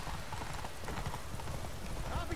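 Horse hooves galloping in The Witcher 3, a rapid, steady clip-clop of hoofbeats on the ground, fairly loud and close, with faint game noise around it.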